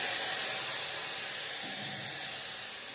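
Milk poured into a hot pan of vermicelli with sugar sets off a loud, broad steamy hiss and sizzle up close, fading slightly over a few seconds.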